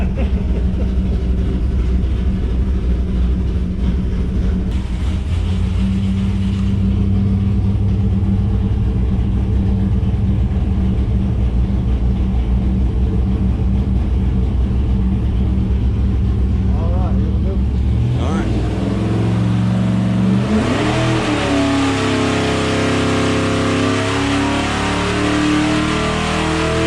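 A 600+ hp 505 cubic-inch big block Mopar V8 with an M1 tunnel ram intake roars on a dyno, holding a loud, steady, heavy drone before revving higher and then easing back down, with voices faint beneath.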